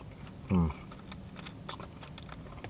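Someone bites into a sugar-coated doughnut ball up close, followed by quiet chewing and soft mouth sounds; a brief low voiced murmur sits over the first bite.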